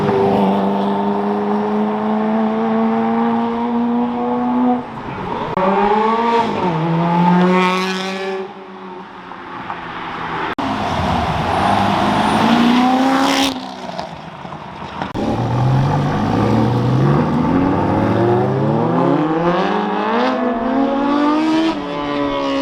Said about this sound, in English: Another living legend driving his F40.